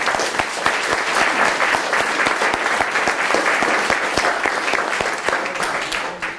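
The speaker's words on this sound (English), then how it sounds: "please help me applaud the students, the council and the Gympie Goaldiggers for such a wonderful night" An audience at a youth speech competition applauding the students, a dense sustained clapping indoors that fades slightly at the end.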